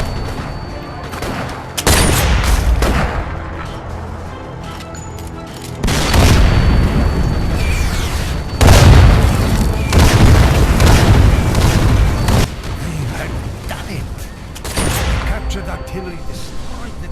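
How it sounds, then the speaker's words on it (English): Artillery explosions destroy tanks in the VR video game Sniper Elite VR, with repeated heavy booms and rumbling blasts arriving every few seconds, loud and close, mixed with gunfire and a voice talking. "artillery destroyed the tanks"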